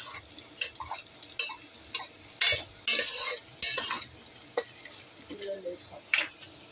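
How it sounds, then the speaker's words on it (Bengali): Chopped onions frying in a pan until lightly reddened, with a steady soft sizzle under repeated scraping strokes of a spoon or spatula against the pan, close and moderately loud, with no talking. "এখানে আমাদের পেঁয়াজ লাল করে নিচ্ছি।"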